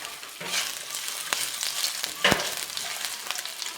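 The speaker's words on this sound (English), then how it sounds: "Now let's add some of the oil. And let's saute the ginger." Ginger sautéing in hot oil for a chickpea and chicken curry, a steady close crackling sizzle with a few sharp spatula scrapes and knocks against the pan, heard alone without talking.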